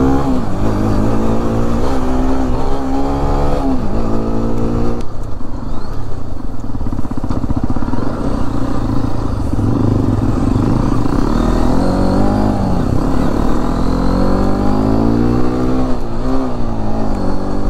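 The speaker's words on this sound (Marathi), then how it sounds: "दाजी पण काय गाडी पळवतात रे भाई," A Hero XPulse 210 motorcycle ridden fast on a Sunday ride near the Nira Deoghar dam reservoir, its engine roaring loud and close without a break, with rising and falling revs as it shifts and accelerates along with heavy wind noise.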